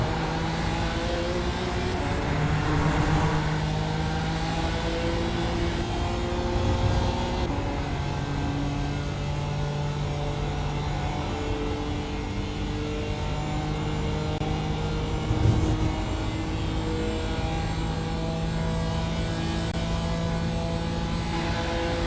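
Sustained race car engine drone in iRacing at Watkins Glen during the Falken Tyre Challenge, holding a steady high pitch through a long drag down the straight, with slight shifts and loud continuous engine tone and no talk.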